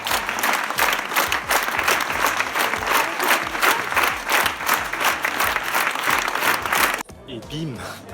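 A large theatre audience in Avignon claps loudly and continuously in dense, sustained applause, which cuts off abruptly near the end into quieter room noise.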